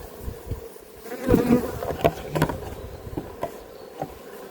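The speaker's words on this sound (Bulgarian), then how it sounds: "този кошер направо гъмжи от пчели" Honeybees swarm thickly in an open hive during a beekeeping inspection, their dense, steady buzz filling the air with a few louder passes of single bees flying close by.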